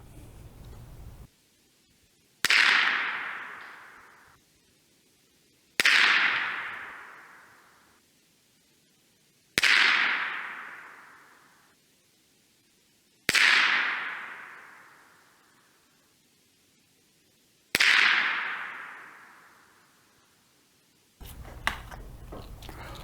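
Five evenly spaced sharp reports of Blazer .22 rounds fired from a Remington 581 rifle, each cracking loudly and then trailing off in a fading tail, with quiet stretches between shots and no talk.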